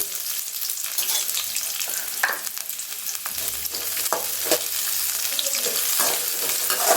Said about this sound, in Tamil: எண்ணெய் சூடானதும் வெங்காயம் சேர்த்துக்கோங்க.